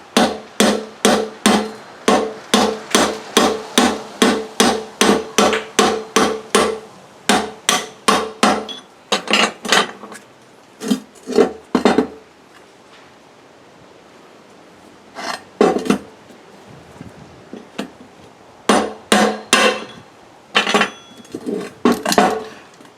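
Steady metallic hammer blows drive a shift rail through the bore of a Borg Warner 1305/1339 Quadratrac transfer case, a fast regular run of ringing strikes, then a pause and scattered, irregular hits, close and alone.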